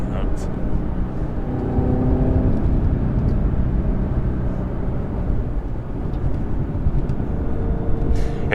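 A Chevrolet Camaro ZL1 1LE engine pulls hard in second gear on a mountain drive, a steady loud low-pitched roar heard from inside the car that rises slightly and holds throughout, with some voice underneath.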